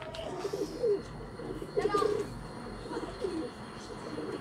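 Pigeons kept for kabootar bazi in Sialkot coo softly in several short rolling bursts, fairly close, with faint voices and background noise around them.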